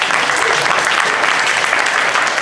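A steady wash of applause from a crowd at San Diego Comic Con, dense and continuous clapping throughout at an even, fairly loud level.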